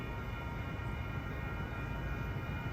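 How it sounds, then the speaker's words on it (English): Caltrain 135, a commuter train bound for San Francisco, approaching Menlo Park station on a hot afternoon: a steady, loud rumble of rail wheels and engine with no breaks, close by and alone without voices. "Caltrain 135 headed to San Francisco. Here it comes."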